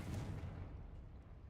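A Confringo blasting spell from the Hogwarts Legacy wizarding game goes off as one heavy, booming explosion at the start, its rumbling tail fading away over a second and a half.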